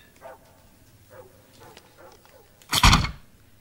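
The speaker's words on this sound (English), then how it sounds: "What the hell is the goddamn dog barking at?" A dog barks once, loud and sharp near the end, after a few faint, softer yips and whimpers.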